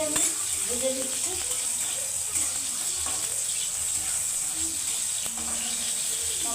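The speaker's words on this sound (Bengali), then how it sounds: "টমাটোটা 1 মিনিটে আমি ভেজে দিচ্ছি।" Tomatoes frying in oil in a pan, a steady broad sizzle holding at an even level throughout, close up and continuous, with faint clinks and kitchen noise underneath.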